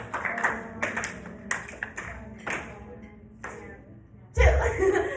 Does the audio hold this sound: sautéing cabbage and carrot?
no